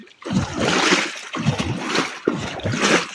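Water in a biofloc fish tank is swirled by hand in three long, loud sloshing strokes, close up, with splashes at the start of each stroke.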